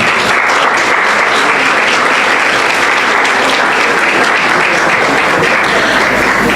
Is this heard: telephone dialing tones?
no